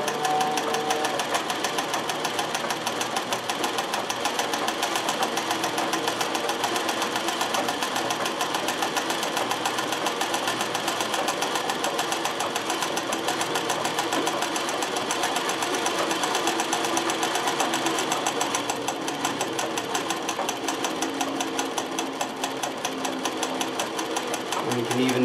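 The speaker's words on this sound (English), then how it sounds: "once I go to the really wide zigzag, you'll realize how quickly the metallic thread is pulling through the tension without any problem whatsoever." A domestic sewing machine runs a wide zigzag stitch with metallic thread, a steady rapid mechanical whirring and ticking that holds at an even loudness throughout, with a voice speaking over it.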